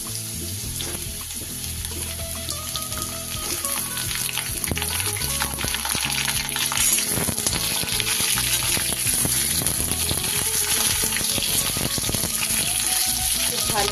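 Taro and eggplant fry and get stirred in a pan, giving a steady, loud sizzle with repeated scraping and clattering strokes throughout.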